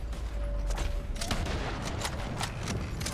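Gunshots ring out in Red Dead Redemption 2 during a train robbery firefight, a string of sharp, fairly loud cracks spaced irregularly over about three seconds against a steady rumbling background.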